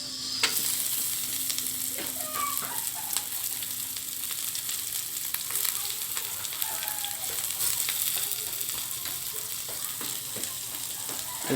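Onion sizzles and crackles steadily in a hot pan while chicken adobo with string beans cooks, with occasional stirring scrapes and clinks over the continuous frying hiss.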